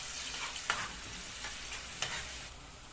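Garlic and hot chili peppers frying in melted ghee, a soft, low sizzle with a few light stirring scrapes, close and quiet, with no talking.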